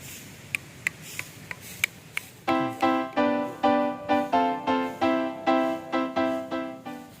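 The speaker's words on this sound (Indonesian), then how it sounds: "Ajaib ya, batunya bisa bunyi." A stone at Gunung Padang rings out with a bright metallic tone, struck repeatedly in a steady rhythm after a few faint clicks, each strike ringing briefly and clearly.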